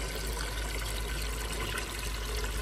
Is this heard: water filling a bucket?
yes